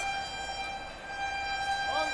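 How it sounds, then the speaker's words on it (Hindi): A Howrah Rajdhani Express train sounds its horn while overtaking on Indian Railways, a steady, sustained tonal blare heard over rumbling rail noise. "क्या ही हॉकिंग के साथ में आ रही है ओवरटेक मारने स्पेशल फेयर को हावड़ा राजधानी"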